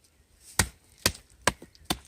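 Dead wood being hacked and chopped away to reach fatwood, four sharp, loud chops spaced about half a second apart, each a crisp near impact with nothing else between.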